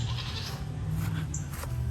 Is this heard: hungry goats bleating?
yes